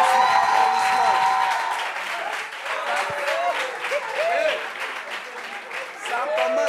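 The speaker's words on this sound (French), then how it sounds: "Applaudissements, applaudissements." Audience applause at a French women's gathering on household chores, sustained loud clapping throughout with people talking and calling out over it.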